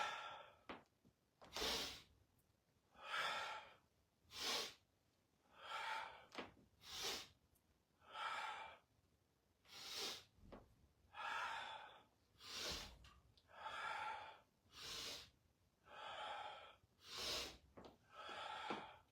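A person doing breath work takes deep, rhythmic inhales and exhales, about a dozen slow, close, airy breaths in a steady cycle with brief pauses between them.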